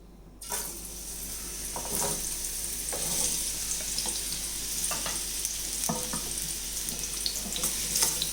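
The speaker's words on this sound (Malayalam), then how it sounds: "ഈ മുളക് വറുത്ത് കോരിയ അതേ എണ്ണയിലേക്ക് നമുക്ക് ഈ മാങ്ങ ഇട്ട് വഴറ്റിയെടുക്കാം" Mango pieces sauté in oil that chillies were just fried in, making a steady close sizzle with occasional scrapes and clicks from stirring.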